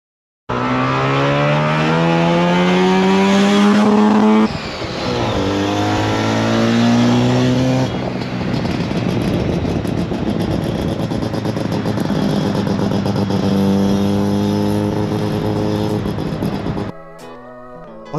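A Datsun 1600 powered by a naturally aspirated 13B rotary engine revs hard and near, its buzzing exhaust climbing through repeated rising pulls with short breaks between gears before cutting off sharply near the end.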